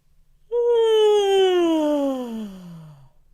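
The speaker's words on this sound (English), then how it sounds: "So a good yawn, really feeling that throat opening." A person makes one slow, drawn-out yawn as part of a vocal warm-up, a single voiced sound gliding gradually downward in pitch for about two and a half seconds, close and clear.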